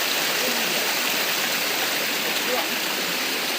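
The Giridi dam waterfall in Keonjhar gives off a steady, dense rush of falling water that fills the whole clip with an unbroken roar, close and loud.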